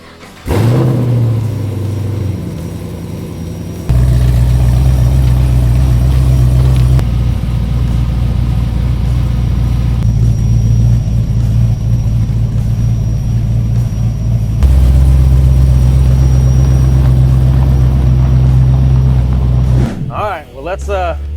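A large LS3 V8 engine rumbles steadily as a 1972 Chevrolet C10 pickup truck drives along the road, with the roar swelling during acceleration and easing off near the end.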